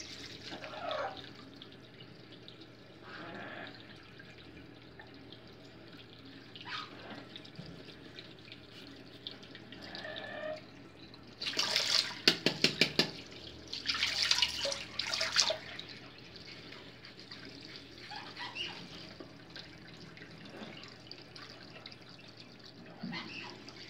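Water from a bathroom tap during a beard shave: a faint trickle of running water with a few louder splashing bursts in the middle, quiet and close, no talk.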